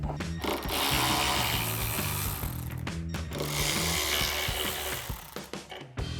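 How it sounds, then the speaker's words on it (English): A hand ratchet turns a T47 socket to back Torx bolts out of the tailgate hinge brackets on a 2021-2024 Ford Bronco. Close, steady clicking and whirring runs in two long bursts separated by a brief pause, with no talking. "we're gonna grab our ratchet and a T47 socket and take these 2 Torx bits out of each bracket"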